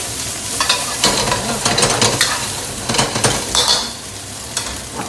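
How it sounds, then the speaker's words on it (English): Pasta sautéed with onions and peppers in a pan: a loud, steady sizzle broken by rhythmic bursts of spoon stirring and scraping against the metal, easing off toward the end, with no one speaking. "Give it a quick saute."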